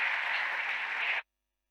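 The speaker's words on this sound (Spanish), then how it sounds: "Démosle un fuerte aplauso y la bienvenida" Audience applause welcoming a speaker to the stage at an education congress, a dense, steady wash of clapping at even loudness for just over a second before cutting off abruptly into silence.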